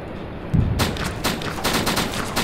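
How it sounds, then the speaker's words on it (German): Gunfire in the PC survival game DayZ: a heavy shot, then a fast burst of sharp cracks and a few scattered later shots, loud and close, with no talk. "Schüsse."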